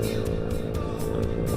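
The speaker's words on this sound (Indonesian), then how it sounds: "Motor itu masih rame." Dense motorcycle and car traffic streams steadily along the Pantura road in Java, engines droning close by with passing whooshes, no talking over it.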